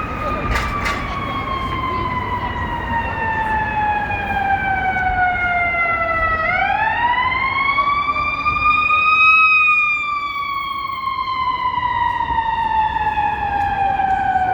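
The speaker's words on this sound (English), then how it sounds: "So I'll let you hear the sirens, an ambulance." A loud ambulance siren in downtown Chicago with smooth rising and falling sweeps, holding steady for long stretches and shifting pitch as the ambulance passes nearby.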